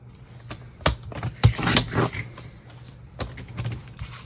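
Card stock being cut to size for holiday cards, a series of short crisp snips and slicing scrapes with a faint steady hum beneath, close and moderately loud.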